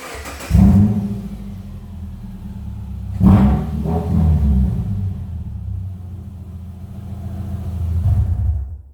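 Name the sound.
car with leaking exhaust running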